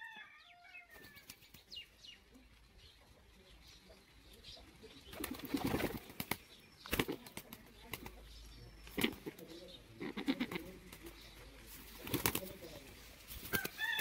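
Pigeons flap their wings in several sharp bursts on a tomato farm, with loud flurries of wingbeats over a steady outdoor background.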